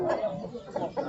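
Roosters at a livestock market in Fergana, Uzbekistan give a few quick clucks close by, then a short pause, with low background bustle.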